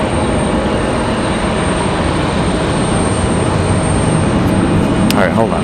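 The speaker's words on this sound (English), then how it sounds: "About to hear Delta 2600 landing." A Delta airliner landing at a stormy Raleigh-Durham airport, heard as a loud, steady, broad roar that fills the whole stretch with no letup.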